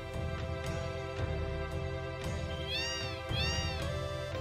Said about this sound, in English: Is there nothing in here other than cats?